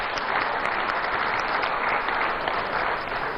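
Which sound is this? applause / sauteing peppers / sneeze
applause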